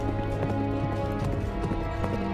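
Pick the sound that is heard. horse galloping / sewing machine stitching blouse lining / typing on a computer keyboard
horse galloping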